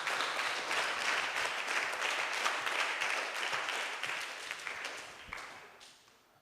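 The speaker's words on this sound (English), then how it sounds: "Give him a round of applause, please." Steady applause from a crowd at a youth cricket camp event, dense and sustained, tapering off toward the end.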